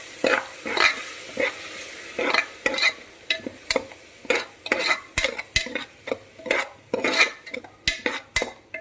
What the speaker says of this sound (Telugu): అది ఇప్పుడు ఇందులో మిక్స్ చేసి వాటర్ మొత్తం పోయి ఆయిల్ పైకి తేలేటంత వరకు ఫ్రై చేసుకోవాలి